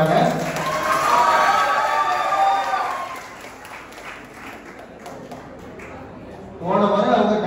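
Audience clapping greets a second-year MBA student at a college stage event, a dense patter that swells mid-clip between stretches of voices and music.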